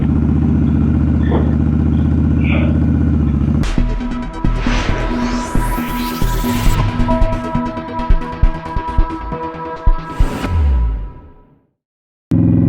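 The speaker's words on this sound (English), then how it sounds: "the Indian Scout Bobber does not like starting in the cold" A 2020 Indian Scout Bobber motorcycle struggling to start in the cold: a low drone, then the starter cranks and the engine catches with rough, uneven revs, then it sputters and dies before a brief final burst.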